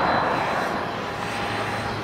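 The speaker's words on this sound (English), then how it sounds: "Oh, look at that jet over there." A private jet's engines roar at Tenerife South Airport, a loud, steady broadband whine and rumble with a thin high tone, sustained throughout and without talk.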